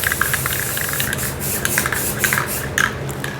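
An aerosol can sprays clear coat onto spray paint art, producing a steady close hiss with short, sharper bursts pulsing through it.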